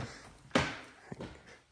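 An attic door unlocked and pulled open gives a sharp, loud clunk with a brief scrape, followed by a softer knock about half a second later, close by in a quiet room.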